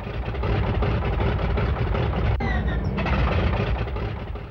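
Engine of a WWII aircraft on a carrier deck starting up, a loud continuous rumbling roar that holds across the clip, with a sharp click and brief whine midway.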